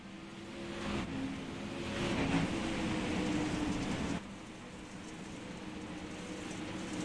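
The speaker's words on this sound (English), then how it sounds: "These cars sound amazing." Dirt late model race cars in the iRacing video game at Knoxville, a distant muffled engine roar that swells and drops, with a sharp cut midway and a steady hum after.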